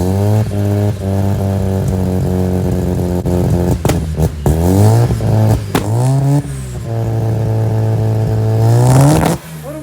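Turbocharged 13B rotary engine in a Mazda FC RX-7 running after being swapped in, idling steadily with a few sharp throttle blips and revs that rise and fall, loud and close, with no talking.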